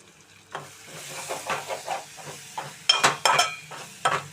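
Ginger garlic paste fries in a pan for an egg curry, a soft sizzle broken by repeated scraping stir strokes, each a short swishing burst, with the last few strokes louder and quicker.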